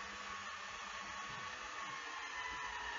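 A cordless drill drives a screw into a board of a raised garden bed, giving a steady, continuous motor whir that holds at an even level for the whole stretch, with no talking.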